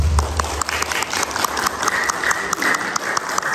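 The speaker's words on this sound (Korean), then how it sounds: "우리 공식적으로 박수로 여러분 환영해 주십니다" During a Sunday worship service, a church congregation claps steadily and warmly to welcome a visiting member, a dense, even burst of applause at close range with no voices over it.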